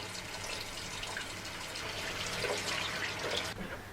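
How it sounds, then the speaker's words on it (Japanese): Tap water runs steadily into a sink as hands are washed before face washing in a morning routine, a soft continuous splashing rush, fairly quiet and close, ending abruptly. "洗顔の前にはまず手をきれいに洗います"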